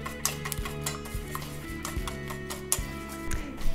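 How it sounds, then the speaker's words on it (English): Stewart's eggnog and a teaspoon of cinnamon whisked together in a bowl, a quick run of light rhythmic clicks and taps from the whisk against the bowl, close and fairly soft, with no speech. "a teaspoon of cinnamon. And then we just whisk it together."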